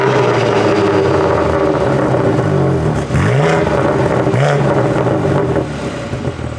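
A 2022 BMW M4 fitted with Callus downpipes roars loud and close, holding a steady drone with a couple of rising revs in the middle before settling back.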